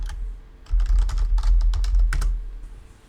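Typing the word PowerShell on a computer keyboard: a quick burst of a dozen or so sharp key clicks over about two seconds, close and alone, with a faint hum underneath.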